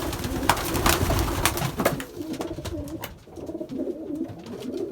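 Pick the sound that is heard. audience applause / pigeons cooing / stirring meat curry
pigeons cooing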